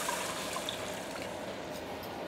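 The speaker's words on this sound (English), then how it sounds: "this is the time we can actually add in the chicken stock" Chicken stock or hot water poured into a pot of braised pork sinew, a steady liquid rush and trickle filling the whole stretch at moderate, even level with no talk.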